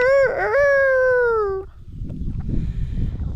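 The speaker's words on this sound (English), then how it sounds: "my Laughing Roosters right there" A Laughing rooster crows once, loud and close, in a barnyard pen of mixed chickens. A single drawn-out call gives way to quieter rustling and farmyard background noise.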